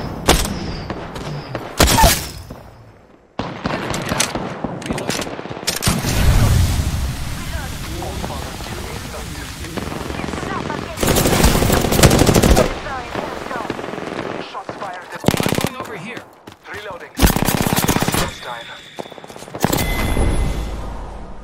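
Gunfire in a video game shooter, with loud bursts of automatic fire and single shots coming in irregular clusters, separated by quieter stretches.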